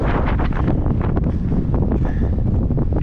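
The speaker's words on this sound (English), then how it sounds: "Woo, it's getting windy." Steady, loud wind buffeting a microphone at night on the Baldface Circle Trail in the White Mountains, a continuous roaring rumble with gusty fluctuations throughout.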